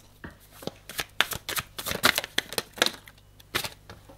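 Tarot cards being shuffled by hand, a series of close, crisp riffling snaps and soft slaps in an irregular rhythm, quiet and alone.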